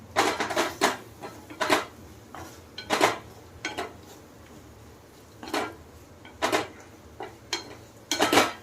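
A spoon scrapes and clinks against a metal pot while parwal gravy with crushed peanuts is stirred, in irregular bursts of clattering strokes with short quiet gaps between them.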